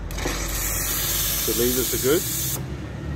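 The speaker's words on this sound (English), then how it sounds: "The steam nozzle, sorry about the noise here." Steam wand of a Nuova Simonelli Appia 2 espresso machine hisses loudly and steadily for about two and a half seconds, then cuts off, with someone talking over it.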